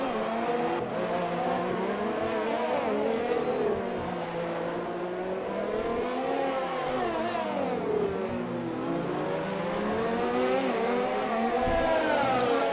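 Race cars on the Baku street circuit in a racing game roar past in a steady stream, engines revving and sweeping up and down in pitch as they pass, loud and continuous with no talk.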